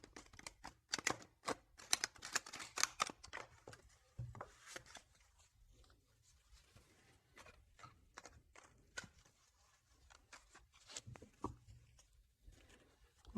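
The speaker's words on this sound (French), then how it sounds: "Je vais faire un petit peu de bruit pour bien mélanger les cartes" Tarot cards shuffled by hand, giving quick bursts of crisp riffling and tapping, near and fairly quiet, with scattered softer card clicks and pauses in between.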